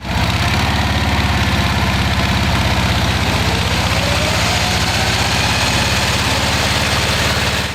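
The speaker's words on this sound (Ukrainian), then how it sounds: "учні автодорожнього ліцею разом із майстрами сконструювали ось такий трактор, катали всіх охочих" A tractor built by vocational lyceum students idles steadily and loud at an outdoor regional exhibition in Cherkasy, its low engine thrum with a knocking pulse running unbroken throughout.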